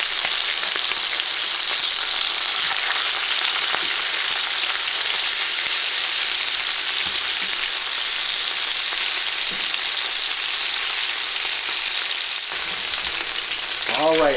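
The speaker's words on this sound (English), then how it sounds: "I'm going to flip it over and cook it for another 4 or 5 minutes on the other side." Chicken pieces fry in a pan for Hunter's Chicken, giving a steady, loud sizzle with crackling pops that runs unbroken for the whole stretch, with no talk over it.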